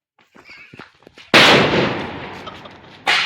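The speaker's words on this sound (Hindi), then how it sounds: "दो जुड़वा पटाखा" Two loud Diwali firecracker blasts go off close by, the first booming and echoing for over a second before the second sharp bang follows, with brief muffled sounds beforehand.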